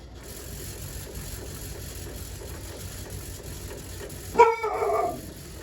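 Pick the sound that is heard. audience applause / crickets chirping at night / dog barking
dog barking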